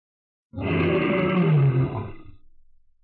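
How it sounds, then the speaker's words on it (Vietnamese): A dragon roar sound effect bursts in after a moment of silence: a single loud, deep, growling roar that swells, holds for over a second, then trails off into a fading rumble. "Tiếng rồng gầm chấn động cả chín tầng trời."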